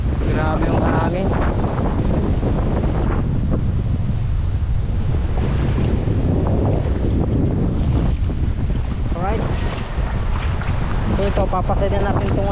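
Heavy typhoon wind buffets the microphone in a steady roar, with surf-like rumble throughout and a voice talking under the noise.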